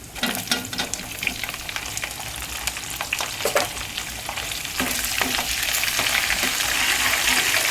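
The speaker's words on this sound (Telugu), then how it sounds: "ఇదిగోండి ఆనియన్స్ వేస్తున్నాను చూడండి" Chopped onions dropped into hot oil in a pan for upma, a dense crackling sizzle with stirring scrapes that swells louder and steadier toward the end, close up with no talk.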